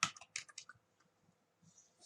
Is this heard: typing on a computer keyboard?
yes